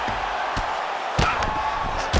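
Punches land on the ground in a UFC 5 fight, heard as a few sharp thuds spaced apart over a steady roar from the arena crowd.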